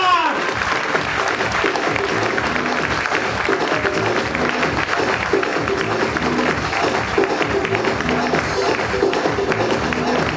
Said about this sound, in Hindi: मैं चाहूंगा एक जोरदार तालियां